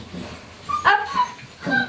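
Dogs play with a toilet brush nearby, giving a short whimpering yip and soft grumbling vocal sounds amid light rustling.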